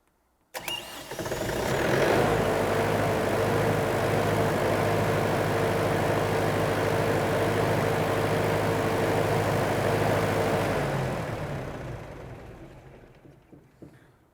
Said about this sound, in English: once I start it again in a minute, that hunting eventually stops and the engine RPM becomes stable.